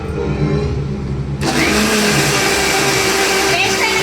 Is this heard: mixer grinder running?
yes